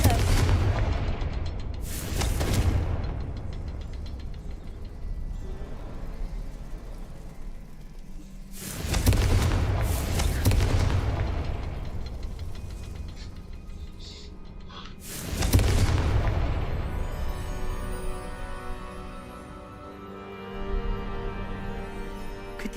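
Confringo fire-blast spell explosions in the Hogwarts Legacy video game: four loud, booming blasts with rumbling tails, spaced several seconds apart over continuous game ambience.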